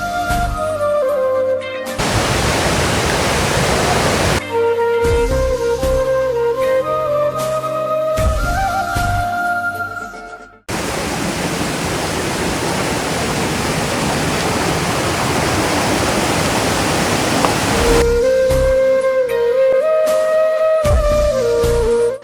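A waterfall roars with a dense, steady rush of water that comes through in longer stretches, alternating with passages where music takes over.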